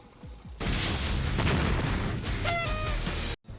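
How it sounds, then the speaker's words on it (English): In a Psychonauts boss fight, a tank fires at rocks with heavy, booming blasts and a rumbling barrage, followed by a short rising electronic whine near the end. "Have the tank shoot the rocks, it'll then show you its weak spot."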